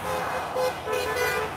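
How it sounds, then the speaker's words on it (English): Car horns honking at a walker along a roadside, a sustained blaring tone with passing traffic noise behind it, fairly close and with no talking. "these are all people honking at me"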